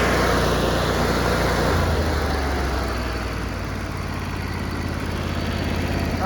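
A John Deere 135 lawn tractor engine with a newly replaced carburetor idles steadily and fairly quietly close by, a continuous low hum with no talk over it.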